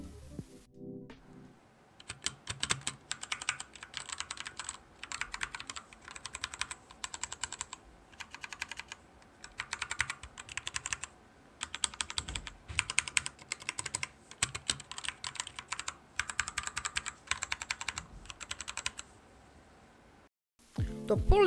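Rapid bursts of typing on a Glorious GMMK mechanical gaming keyboard, dense clacking keystrokes close up and loud, running steadily for about twenty seconds with brief pauses between runs of words.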